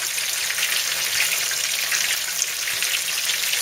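Pupusas frying on a hot griddle set to high, giving a steady close sizzle with a dense crackling hiss that carries evenly throughout.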